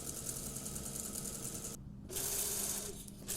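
An overlocker serging a blouse seam runs in a steady, fast mechanical whir close by, briefly pausing near the middle before resuming at full speed.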